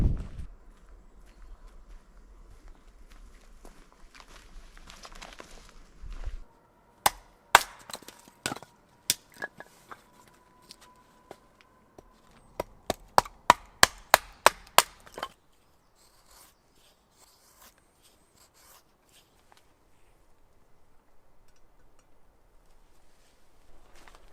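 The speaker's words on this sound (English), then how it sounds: "I'll start prepping the firewood." Firewood, a mix of softwood and hardwood, being split for a campfire in the woods: a run of sharp, separate wooden cracks and knocks, sparse at first and then a quick rhythmic burst, close and fairly loud against a quiet outdoor background.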